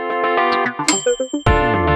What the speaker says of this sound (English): that was the chimes that I also sent to the sidechain